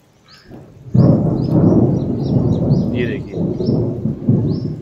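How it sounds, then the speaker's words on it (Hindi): Deep rumbling thunder rolls on continuously over a steady wash of heavy rain, loud and close. "गड़गड़ाहट सुन रहे हैं।"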